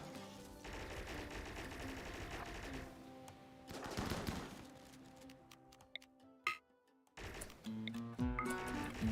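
Colonists firing guns in the video game RimWorld, with rapid bursts of game gunfire interrupted by short gaps and a sharp burst near the end, all fairly quiet.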